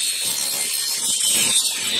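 A table saw trims the edge off a piece of wood, giving a loud, steady, close whine and rasp of the blade cutting, unbroken for about two seconds.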